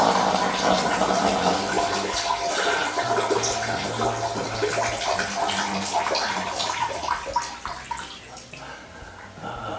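Steady splashing stream of a person urinating into a toilet bowl, continuous and close for the whole stretch, with no talk over it.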